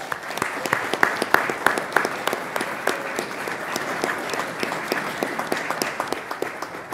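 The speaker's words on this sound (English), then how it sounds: "So let's give these guys a round of applause." Audience applause at a county fiscal court meeting, a dense, lively spread of individual claps that holds steady and fairly loud throughout, with no speech over it.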